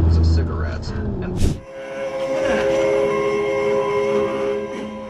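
Body-cam audio at a level crossing where a train strikes a vehicle: brief voices and rumble, a sharp thump, then a loud sustained train horn over rolling rail noise, close and continuous.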